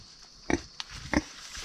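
A pig on a Nepali farm gives two or three short, close grunts and snuffles, separated by brief pauses over a quiet background.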